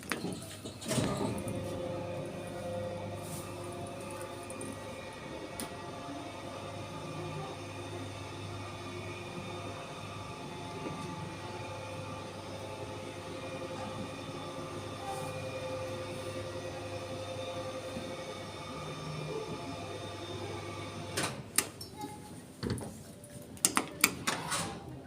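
Platform lift at the Museum of London Docklands running smoothly, a steady quiet hum with a faint whine that continues evenly, ending in a few clicks and clatters.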